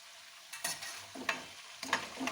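Punjabi-style sweet and sour cauliflower and carrot pickle cooking in a pan on a medium flame, stirred in a few scraping strokes over a steady close sizzle, with no talking.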